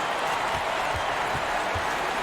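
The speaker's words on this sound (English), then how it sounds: "Crowd is getting into it now." A simulated arena crowd roars and applauds steadily through the whole stretch during a college basketball video game, a dense wash of noise.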